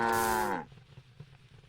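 A cow from the StarCraft II game moos once in a loud, drawn-out low call that stops abruptly, followed by quiet game ambience.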